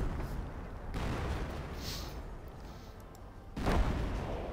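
Two deep booming shots from a Priest self-propelled artillery gun in Company of Heroes, spaced a few seconds apart with a low rumble between them, fairly distant and not loud.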